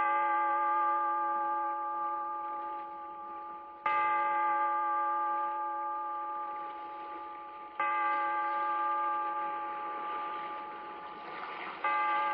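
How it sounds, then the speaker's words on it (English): A deep bell tolls three slow strokes, each ringing with a long, humming decay before the next, loud and alone without voices. "Bellkeeper, toll the bell, so that all may know we are gathered again"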